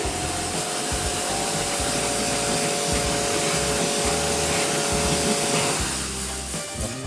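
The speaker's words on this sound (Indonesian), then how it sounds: "saat penyemprotan fan ini ya, fan atau kipas ini" A loud, steady spray hiss mixed with a low mechanical hum runs without pause, easing slightly near the end, as an indoor air conditioner unit's fan is sprayed during cleaning.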